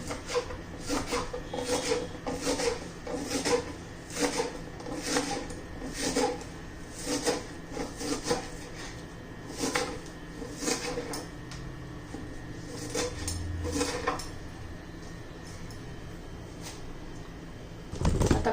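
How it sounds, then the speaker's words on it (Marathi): Spring onion greens being finely chopped with a knife, a steady run of quick rasping blade strokes on a board, close and fairly loud, with brief pauses between bursts. "आता कांद्याची पात चिरून घ्यायची ती पण बारीक चिरायची"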